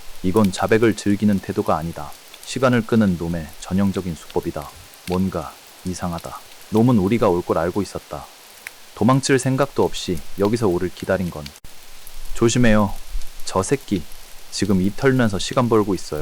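Rain falls steadily outside a container, an audiobook sound effect: a constant soft patter running beneath Korean narration and character voices.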